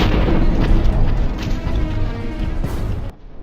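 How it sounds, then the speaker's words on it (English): A drone strike explodes against an abandoned Russian T-72 tank, setting it alight: a loud, sustained rumbling blast roars continuously for about three seconds, then cuts off abruptly. "The first drone ignites one tank."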